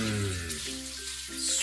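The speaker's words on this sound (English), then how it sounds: "Just cooking some bacon." Strips of bacon fry in a pan with a steady, close sizzling hiss, while a low sustained tonal hum runs underneath.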